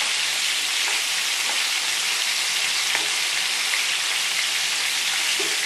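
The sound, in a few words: meatballs frying in a pan, being turned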